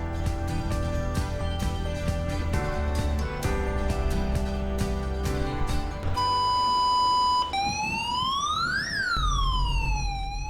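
An alarm siren blares in a naval combat control room during cadet training, first as rapid pulsing beeps, then as a steady held tone, then as a rising and falling wail, loud and continuous.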